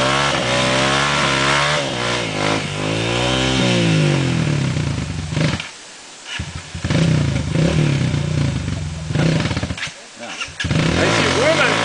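A JMC dirt motorcycle accelerates loudly along a trail near Santa Maria, RS, its engine revving up and down continuously with brief dips, while voices can be heard talking under the engine noise.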